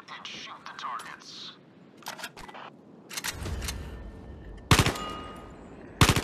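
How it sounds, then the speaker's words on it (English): Rifle handling and gunfire at targets in the Zero Caliber video game: mechanical clicks and clacks of loading and cocking, then several sharp, loud shots toward the end, with a short burst near the close. "Grab that rifle, load it, cock it, and shoot the targets."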